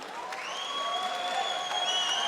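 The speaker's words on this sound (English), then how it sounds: "round of applause for both our fighters" Crowd applause at a cage fight event, sustained steady clapping with some whistles and cheers rising over the roar, filling the venue without pause for both fighters at the close of the bout.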